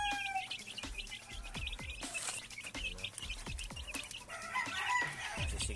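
Chickens and their chicks cluck and peep continuously while eating, among them white, green-legged and blue-faced birds; a rooster crows and sharp pecking taps land close by against steady flock noise.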